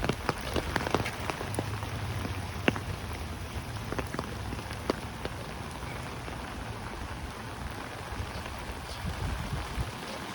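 Steady rain patters on an umbrella during a walk in Howard Beach, Queens, with dense drops and sharper ticks throughout and water flowing beneath, a continuous close wash with no talking.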